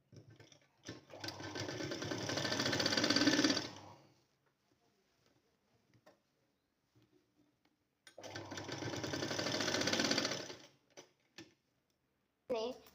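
A sewing machine top-stitches a sleeve joined to a readymade dress in two bursts of rapid, whirring needle clatter, each lasting about three seconds, separated by near silence with faint handling clicks, close up.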